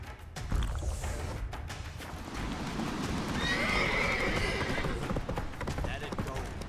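Roach, a horse in The Witcher 3 video game, whinnies and neighs over steady clip-clopping hooves and a loud game soundscape, with brief in-game voices and rushing background noise throughout.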